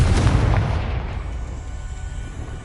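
A Confringo blasting spell explodes in the Hogwarts Legacy video game, one loud booming blast that rolls off into a fading rumble over nearly three seconds.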